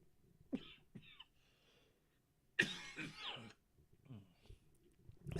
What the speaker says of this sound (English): A little coughing attack.